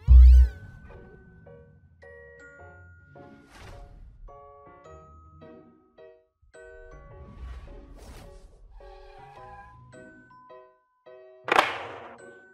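A phone ringtone in an Indonesian drama: a melodic electronic tune of clear chiming notes plays on for several seconds, with a few soft thuds and a louder burst near the end.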